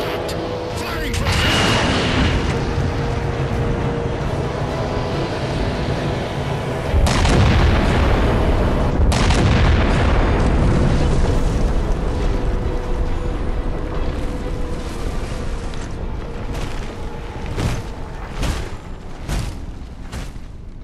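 Heavy ship weapons boom and explosions roar in Halo 4, a dense, loud barrage of deep blasts and rumbling under clipped radio-style voices.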